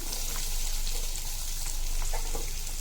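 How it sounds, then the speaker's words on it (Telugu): Ivy gourds (dondakaya) fry in hot oil with a steady, close hiss and sizzle, flecked with faint pops and a light stir, with no talk over it. "కొంచెం ఆయిల్ వేసానండి. ఇప్పుడు దొండకాయలు వేసేస్తున్నాను."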